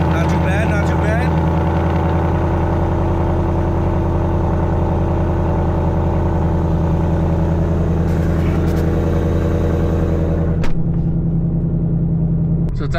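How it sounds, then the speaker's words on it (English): A 2024-or-later Ford Mustang engine on a cold start, a loud, steady, deep idle rumble held close for most of the stretch before a sudden drop near the end. "Let's go ahead and get a nice cold start."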